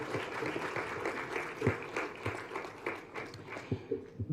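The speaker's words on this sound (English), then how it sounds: "I think that deserves a round of applause." Scattered audience applause for a panelist at a parliamentary panel event, moderate and uneven with individual claps standing out, mixed with murmuring voices.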